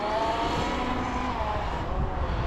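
An Outcast 8S EXB radio-controlled car on a high-speed pinion gear runs fast, its electric drivetrain producing a steady, loud high-pitched whine with broadband rushing noise throughout, no voices present.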